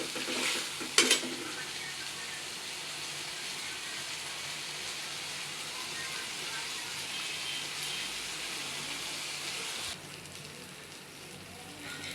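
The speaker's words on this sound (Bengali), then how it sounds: "এবার এইভাবে লাড়বেন, এটা একটু ভাজা ভাজা করে দেন।" Onion and ginger paste stirred and fried in a pan, a steady close sizzle running throughout, with a sharp clatter of the spoon early on and the frying easing slightly toward the end.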